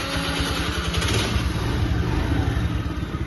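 A Honda Dio scooter engine runs steadily at idle close by, a continuous low buzzing putter with slight rises that carries through the whole stretch, with no talking over it.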